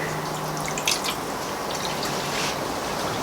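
Brita-filtered water pours steadily into an ultrasonic cleaner, a continuous close splashing trickle with a small bump near the start and no voices.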